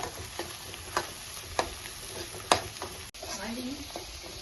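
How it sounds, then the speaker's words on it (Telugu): Green chilies and curry leaves frying in hot oil for an egg curry, a soft steady sizzle with scattered crackles and a few sharp pops, plus occasional light stirring clicks. "కరివేపాకు అలాగే కట్ చేసి పెట్టుకున్న నాలుగు పచ్చిమిర్చి వేసి ఇప్పుడు వీటిని ఫ్రై చేసుకోవాలండి"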